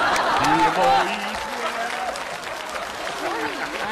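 Neighbours clapping in a courtyard, a burst of applause that quickly fades into lighter scattered claps while voices talk over it.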